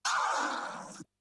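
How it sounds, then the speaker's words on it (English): A single DJ scratch sample from a scratch sample tool, one sustained raspy vinyl-like tone lasting about a second, loud and alone. "So I'm going to take scratch sample number 1 on my free scratch sample tool,"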